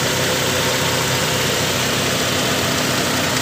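A Honda Civic LX engine idling smoothly, a steady continuous mid-range hum with faint mechanical vibration, close and even throughout with no voices.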